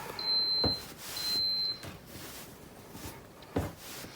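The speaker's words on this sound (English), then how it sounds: "Apologies if you hear any beeping on here from my iron." A pair of thin, high electronic beeps from a cordless iron in the first two seconds, faint over quiet room noise with a few soft knocks.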